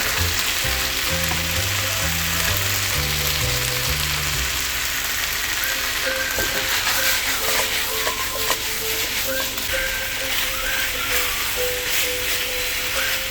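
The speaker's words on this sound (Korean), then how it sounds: "고기 겉면이 어느 정도 익었을 때 양파를 넣어줄게요" Pork and onions stir-fry in a pan for Korean spicy stir-fried pork, a dense continuous sizzle with a utensil scraping and stirring throughout, close and steady.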